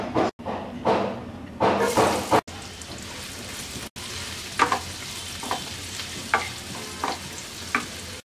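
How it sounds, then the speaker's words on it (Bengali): Chopped onions go into oil left over from frying chicken, giving a steady close sizzle and crackle with a few stirring scrapes and clatters against the pan. "চিকেন ভাজার পর যে তেলটুকু আছে এর মধ্যে আমরা 2 কাপ পেঁয়াজ কুচি দিয়ে দিচ্ছি।"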